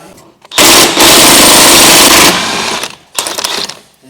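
Impact wrench undoing wheel nuts on a car during a JCW teardown, loud close hammering rattle in one long burst, a brief stutter, then a shorter burst after a gap.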